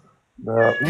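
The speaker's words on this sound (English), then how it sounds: "Is that a cat? that's a cat." A cat meows loudly and close by, one drawn-out, rising call filling the second half after a near-silent start, with a voice speaking briefly at the very beginning.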